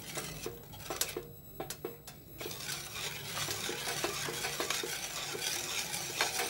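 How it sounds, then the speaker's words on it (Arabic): A spoon stirring rice pudding in a pot, with scraping and soft clinks over a steady bubbling sizzle, close up and continuous. "مع التحريك المستمر"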